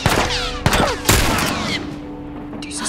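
Bursts of rifle fire and sharp bangs in quick succession, loud and close, in the video game The Last of Us, followed by a lingering ringing tone and lighter shots.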